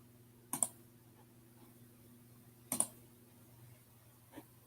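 Computer mouse clicks while working in Google Classroom, a few sharp isolated clicks spaced about two seconds apart over a low steady hum, with no talking.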